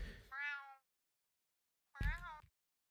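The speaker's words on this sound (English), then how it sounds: "That's the cat." A house cat meowing indoors, two short, close meows about a second and a half apart, the second starting with a sharp thump, then quiet.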